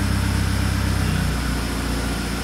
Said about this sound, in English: Is it idle alright now? Idling better.